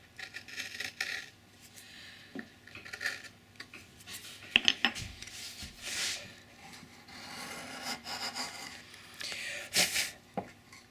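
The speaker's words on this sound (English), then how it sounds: "I'll come in with my chisel and just cut a little chamfer right here" Hand chisel paring a small chamfer on the edge of a pine candle box, heard as a series of short, close scraping and rubbing strokes with a few sharper taps, quiet and irregular with no talk.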